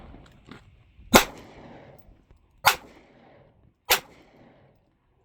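Three single loud shots from a Taurus Millennium G2 compact pistol, spaced about a second or more apart, each a sharp close crack followed by a short decaying echo against quiet.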